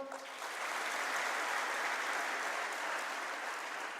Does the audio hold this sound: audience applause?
yes